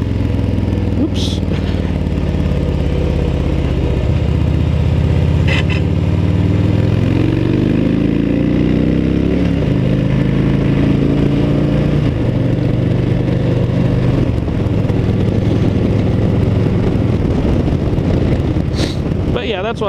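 Harley-Davidson Softail motorcycle on a warm-day ride, its engine rumbling loud and close throughout with rising and falling pitch through gear changes, buffeted by heavy wind noise.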